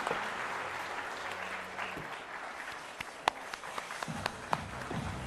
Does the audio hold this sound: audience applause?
yes